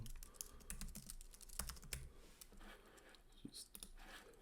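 Rapid clattering keystrokes on a computer keyboard while text is entered into a design app, irregular bursts of clicks up close, fairly quiet, with faint room noise between them.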